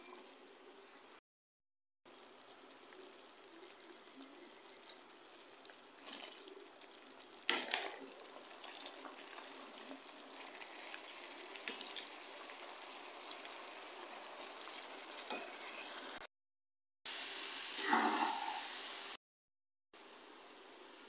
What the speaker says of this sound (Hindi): चावलों को मैंने इसमें डाल दिया है। अब हम इसे अच्छे से मिक्स करेंगे।